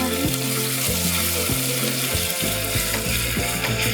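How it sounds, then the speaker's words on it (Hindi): A steady loud sizzle of ginger, garlic and chili paste frying in a pan, with rhythmic scraping or stirring strokes repeating about every half second. "अब मैं इसमें अदरक, लहसुन और मिर्ची का पेस्ट डाल रही हूँ। इसको थोड़ा सा भून लेना है।"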